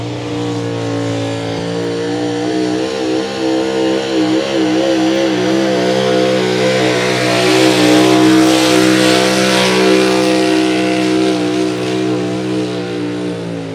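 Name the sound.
pulling trucks on DOT tires making monster horsepower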